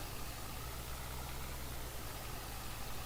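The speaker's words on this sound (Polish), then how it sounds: "Włącz silnik." Tractor engine running steadily in Farming Simulator 22, a continuous low idling drone with broadband noise, loud and close, no talk over it.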